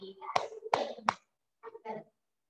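Three sharp hand claps in quick succession from students in a grade 5 Zoom maths class, mixed with voices, then a short pause and more murmured talk.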